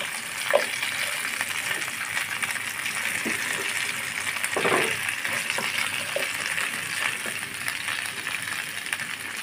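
Drumstick curry with mustard paste, ginger paste and salt stirred in a frying pan, a continuous close sizzle broken by scattered soft scrapes and knocks of the spoon.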